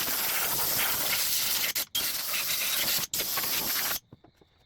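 Compressed air blasts from a handheld blow nozzle in a loud, close hiss, cut by two brief pauses, then stopping abruptly near the end, leaving faint background noise.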